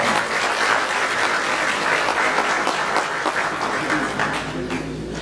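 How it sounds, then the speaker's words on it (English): An audience at an annual meeting claps in a sustained, dense round of applause that tapers slightly toward the end. "let's give Gabriel a big round of applause"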